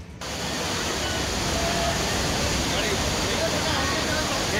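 The flooded Godavari river surges past submerged ghats and temples in a loud, unbroken roar of rushing water that holds steady throughout.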